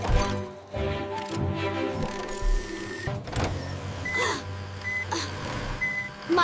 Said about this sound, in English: My beeper is working!